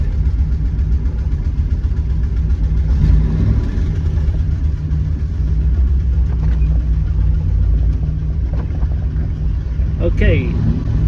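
A Jensen Healey V8 car engine on a test drive down the road, giving a low, steady rumble that rises slightly as it revs, close inside the cabin, with people talking over it.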